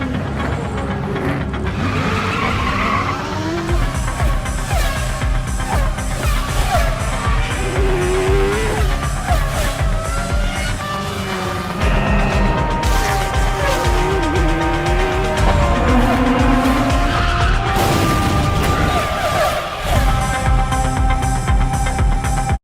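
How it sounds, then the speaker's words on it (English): F1 race cars in the GTA Open Wheels video game trailer scream at high revs with shifting engine pitch, and tires squeal and skid, all loud and continuous over a music bed. "as you can tell from that trailer, we were promised realistic F1 engine sounds"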